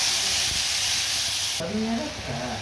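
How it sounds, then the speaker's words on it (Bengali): Whole cumin and spices fry in a little oil with a loud, bright sizzle that drops sharply partway through, leaving a softer, bubbling crackle with faint clinks. "লবণ হলুদ দিয়ে ঢেকে ঢেকে আমি এটাকে ভাজবো"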